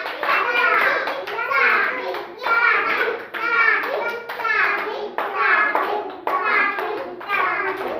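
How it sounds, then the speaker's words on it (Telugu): Children clapping for a boy named Satvik during indoor kids' play activities: a steady run of bright, rhythmic bursts repeating about every half second, with children's voices mixed in throughout. "క్లాప్స్ కొట్టండి సాత్విక్కి"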